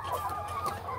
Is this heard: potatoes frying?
no